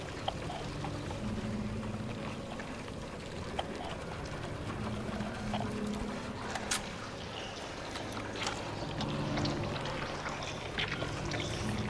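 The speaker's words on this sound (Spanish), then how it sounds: "todo suena tan chapoteante" Watery, splashing footsteps in Silent Hill 2 Remake, a steady run of soft sloshing steps over a wet, murky ambient bed, moderately close and without speech.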